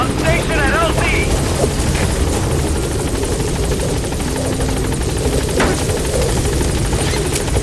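A support helicopter arrives at a landing zone in Metal Gear Solid V, a close, continuous rotor thrum and engine whine with brief radio-style voices over it.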